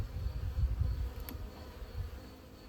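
Honeybees humming in an opened hive, a close, low, steady buzzing that wavers slightly in strength across a few seconds with no voices.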